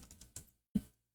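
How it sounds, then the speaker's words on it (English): A few quick keystrokes on a computer keyboard sound close and quiet, a short cluster of clicks followed by a single firmer tap after a brief pause. "if I type"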